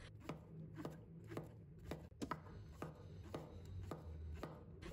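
Knife cutting king oyster mushroom into diamond-shaped pieces on a cutting board, a quiet, steady run of crisp chops about every half second.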